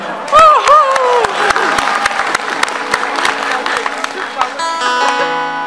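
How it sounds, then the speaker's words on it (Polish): Audience applause at a concert in Wodzisław Śląski, a steady wash of clapping from a crowd with a few shouts and vocal calls on top, loud and close, continuing for several seconds. "Wielkie brawa."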